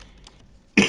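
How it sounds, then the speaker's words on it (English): A single sharp cough bursts out near the end after near silence, close and loud, from a person narrating a game tutorial. "Sorry, I'm coughing."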